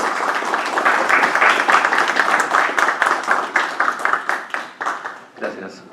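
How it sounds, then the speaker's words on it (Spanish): Audience applause at a book presentation conference fills the room, a dense roar of many hands that thins toward the end into scattered, distinct claps. "Recibamos con un fuerte aplauso."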